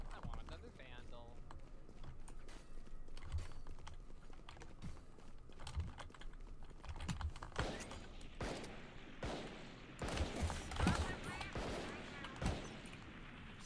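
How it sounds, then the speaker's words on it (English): Gunfire in the video game Valorant, sharp rapid shots in short bursts that grow denser and louder toward the end, mixed with keyboard clatter and players talking over the action. "Stop shooting your gun and waste your bullets"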